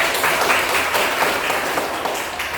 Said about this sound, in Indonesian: tepuk tangan buat kita semuanya